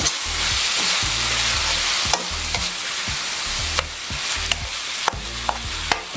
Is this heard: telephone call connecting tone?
no